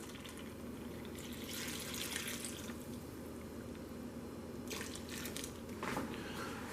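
A water and yeast mix is poured into a bowl of flour for bread dough, making faint splashing and dripping in two short bursts against a quiet kitchen background.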